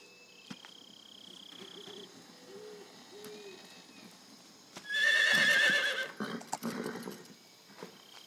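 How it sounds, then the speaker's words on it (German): Horse whinnying in a Metal Gear Solid 3: Snake Eater cutscene set in a jungle, a loud drawn-out neigh rising over quiet ambient background and insect-like chirps, followed by a few snorts. "Ein Pferd mitten im Dschungel."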